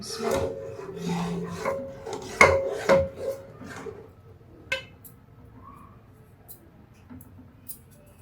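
A spoon works besan halwa made with egg around a pan over low heat, giving close rasping scrapes and a few metallic clinks, loud at first and then thinning to faint scattered taps.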